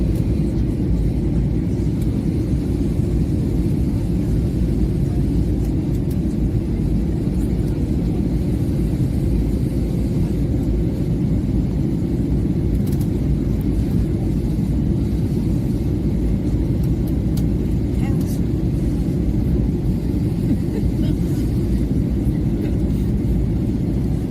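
A passenger airplane landing at Terceira, with a steady loud low rumble of engines and airflow heard from inside the cabin, continuous throughout without pause.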